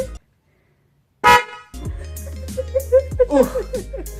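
After a pause, low- and high-tone snail car horns sound together in one brief, loud blast, then people nearby talk and laugh excitedly.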